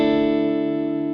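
An electric guitar run through the PA 700's built-in Vox AC15 amp model rings out a sustained, loud chord with steady tone and no talking over it.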